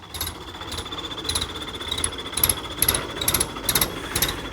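A modified tractor's whistle sounds in quick, shrill, rhythmic pulses, about ten sharp bursts repeating over a steady mechanical engine drone, loud and close.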